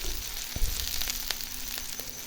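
Onion and garlic fry in hot oil for a sweet potato leaf dish, giving a steady close sizzle with a brief stir-like knock early on and no voices.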